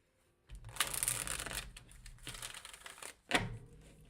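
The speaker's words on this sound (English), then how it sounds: "Just do one more shuffle." Cards riffle-shuffled close by in two quick bursts, a crisp ruffling flutter ending in a sharp snap as the deck is bridged back together.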